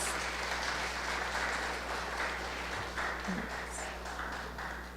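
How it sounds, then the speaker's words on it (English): An audience at a yoga anniversary event gives a round of applause, a soft, steady wash of many hands clapping heard from a distance without any clear breaks. "I think he deserves another round of applause"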